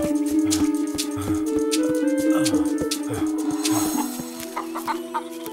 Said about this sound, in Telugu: ఈ కోళ్లు మాత్రమే కనిపిస్తున్నాయి, ఇక్కడ మనుషులెవరూ కనిపించడం లేదు